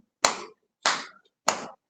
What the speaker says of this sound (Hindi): तालियां 15 बार।